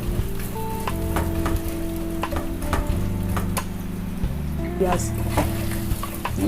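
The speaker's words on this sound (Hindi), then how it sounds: "मैं इसको प्याज डाल दूंगी इसके में ऑयल में और गरम मसाले में और इसको फ्राई करूंगी 2 से 3 मिनट के लिए" Onions frying in oil with garam masala for a mutton dish, a continuous sizzle broken by sharp stirring scrapes and clinks against the pan, with a faint hum beneath.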